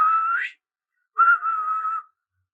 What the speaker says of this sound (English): along with the whistle tone,